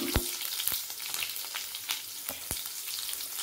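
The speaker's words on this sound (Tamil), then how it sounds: "ஒரு 1 நிமிஷம் வெங்காயத்தை நல்லா வதக்கிடுங்க." Small onions and curry leaves sizzle in hot oil in a pan for a Tamil brinjal curry, a steady crackling fry broken by sharp spattering pops at irregular intervals, heard close with no talking.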